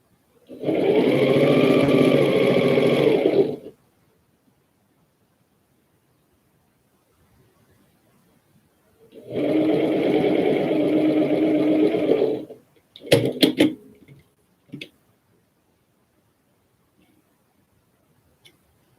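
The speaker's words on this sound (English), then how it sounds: "Just sewing together the project for my winter box. Trying to get this table runner done." A sewing machine stitching a quilted table runner runs in two steady bursts of about three seconds each, close and loud, separated by silence, followed by a few brief clicks and handling taps.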